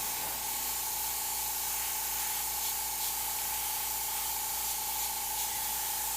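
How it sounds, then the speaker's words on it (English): An Eclipse CS airbrush sprays paint in a steady, close hiss that holds unbroken throughout, with no voices. "It's actually the same airbrush as this, which is the Eclipse CS."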